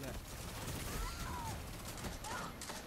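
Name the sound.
gunfire from a gun in a video game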